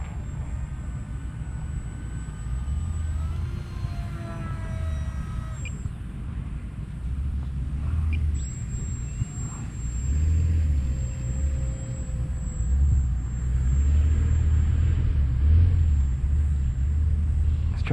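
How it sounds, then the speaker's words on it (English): Electric motor of an FMS Fox 800mm RC glider droning steadily at half throttle after a hand launch on a hot day, a constant whine with a low rumble under faint outdoor background. "Half throttle takeoff, hand launch."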